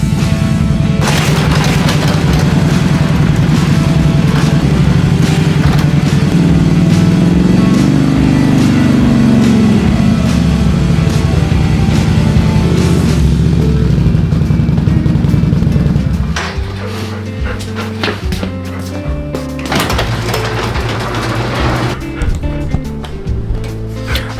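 A Can-Am ATV engine rumbles loudly and close, with a rising and falling drone, then drops to a lower, rougher idle with rattling for the final stretch.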